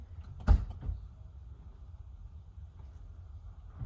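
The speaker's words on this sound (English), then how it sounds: "here you go, door is opening" A single sharp thud of a 2013 VW CC car door near the start, a softer knock just after, then quiet low hum of the fuel pump priming.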